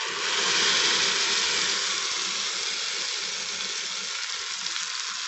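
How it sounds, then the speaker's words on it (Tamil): A frying pan of kara chutney hisses loudly as tomatoes go in, the sizzle swelling early and then settling into a steady, dense crackle, close by with no talking. "இப்போ நம்ம தக்காளி ஆட் பண்ணிக்கலாம்."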